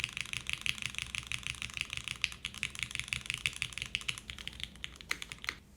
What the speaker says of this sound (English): This is solid sounding TKL.